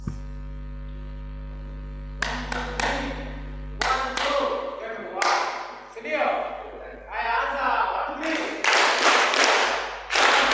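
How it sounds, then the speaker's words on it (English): An audience at a women's land and property rights report launch claps in a few distinct bursts, each a short, loud spatter of hands. A steady electrical hum runs underneath. "Now we are going to clap 3 times."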